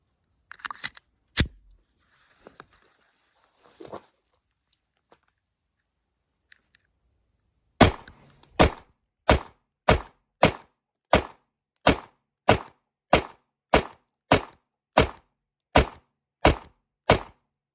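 Canik MC9 pistol test-fired after feed ramp polishing: two early shots, a pause with faint handling noises, then about fifteen sharp, evenly spaced shots in a steady rhythm, loud and close.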